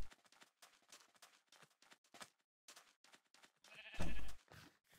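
A sheep bleats in a video game, one loud burst near the end following quieter game sounds and scattered clicks, with no voices.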